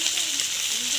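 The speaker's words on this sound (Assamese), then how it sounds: "মাই এতিয়া মাংস ভাজি আছে" Meat frying in a pan gives a steady, close sizzling hiss with no clear breaks for about a second.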